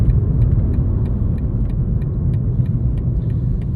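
A 2023 BMW M4 CSL rolls slowly into Gingerman Raceway, its engine giving a steady, close, low rumble throughout with no one talking.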